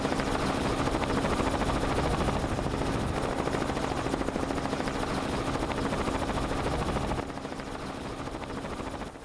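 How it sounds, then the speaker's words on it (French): A gendarmerie rescue helicopter roars loud and near, its rotor chop and turbine whine forming a dense, unbroken drone that eases slightly toward the end. "Oui, on va envoyer l'hélicoptère"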